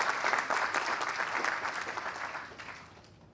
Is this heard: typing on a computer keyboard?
no